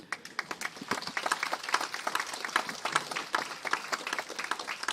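Brisk applause at a campus ceremony in Saint-Jérôme, with individual claps distinct and close, forming an uneven, lively patter from a modest crowd.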